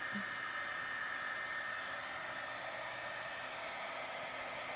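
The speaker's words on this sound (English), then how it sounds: "So you want to just heat up your heat tool away from it." A crafting heat tool blows steadily for embossing powder, a constant close whooshing hiss of hot air with no change in level and no talking.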